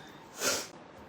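A single short nasal sniff, quick and close, with nothing else around it.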